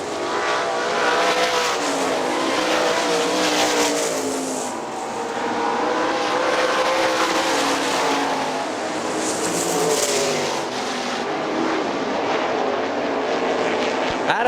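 Sprint cars racing down the back straightaway at Hartford Speedway, a loud continuous roar of several engines with rising and falling pitch as cars pass and rev, dense and sustained throughout.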